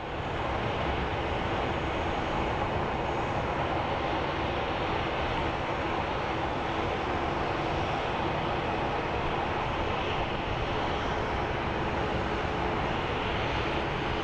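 An airliner taxiing at Phoenix Sky Harbor International Airport, its engines producing a loud, steady jet roar that holds constant from start to finish, close and with no talking over it.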